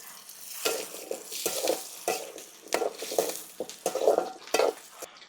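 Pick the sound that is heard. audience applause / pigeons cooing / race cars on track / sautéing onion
sautéing onion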